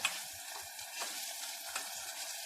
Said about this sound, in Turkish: Soğan, sarımsak, kıyma hepsi kavruluyor arkadaşlar.